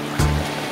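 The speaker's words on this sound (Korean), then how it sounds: "물소리도 정말 좋고요" Water flowing in a mountain stream beside a nearby forest trail in Korea, a steady close rushing wash with brief low swells, no voices.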